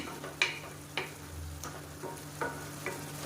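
Chicken simmering and drying out in its own juices in a pan, with soft steady bubbling and a few brief stirring scrapes and clinks at intervals.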